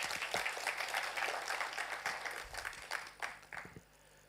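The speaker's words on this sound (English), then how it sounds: "Can we please welcome him with a huge round of applause" A conference audience applauds to welcome a speaker onto the stage, giving fairly faint, distant, steady clapping that thins out and fades near the end.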